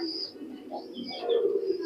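Pigeons cooing at a busy pigeon market, soft low coos repeating close by with faint background chatter.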